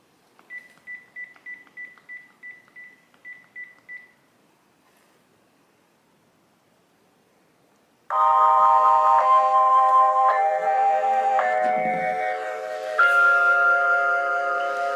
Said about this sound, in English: I'm gonna show you what it looks like when someone calls.